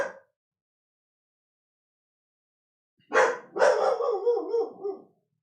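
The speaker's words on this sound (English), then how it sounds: "I have no idea what he's barking at." A dog barks indoors: a brief sound at the start, then after a pause a loud close bark followed by a rough, drawn-out howling yelp.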